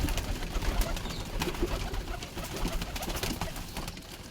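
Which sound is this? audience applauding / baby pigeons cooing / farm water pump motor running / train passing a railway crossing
baby pigeons cooing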